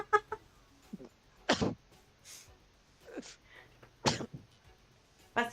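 A sharp sneeze bursts out nearby, followed a few seconds later by another, amid quieter breaths and small vocal sounds.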